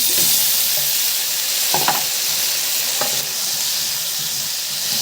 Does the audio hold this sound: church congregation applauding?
no